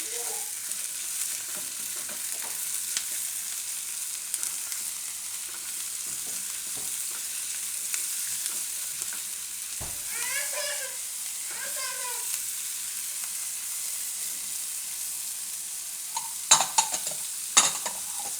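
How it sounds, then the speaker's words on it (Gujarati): Capsicum, green beans and other vegetables frying in a pan for cheesy rice, stirred after salt goes in, with soft steady sizzling, a few scraping stirs and light clinks near the end, no talking. "થોડુંક આપણે એમાં મીઠું નાખી દઈશું શાકભાજી પૂરતું, અને મિક્સ કરી લઈશું."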